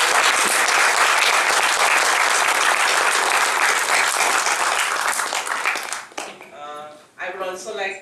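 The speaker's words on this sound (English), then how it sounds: "And a big round of applause for" An audience gives a loud sustained round of applause at a session, dense clapping that fades out after about six seconds before a voice begins speaking.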